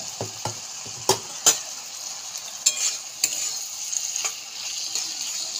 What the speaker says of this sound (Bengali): এটা তো মাছ তো টমেটো পেঁয়াজের সঙ্গেই কষে যাবে, কষে গেলেই সেদ্ধ হয়ে যাবে।